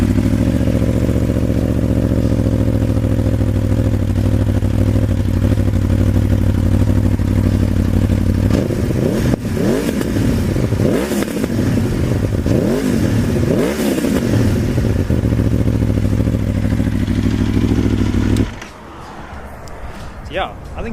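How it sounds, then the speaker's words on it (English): A 2013 Aprilia Tuono motorcycle on its stock exhaust idles loudly and steadily close by, then gets several sharp revs before the engine cuts off near the end; a voice talks over it. "So I'm just going to start it up so you can hear it"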